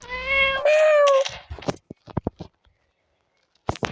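A cat gives two drawn-out meows close up in the first second and a half, followed by a few soft clicks and taps, a quiet pause, then a faint noise at the end.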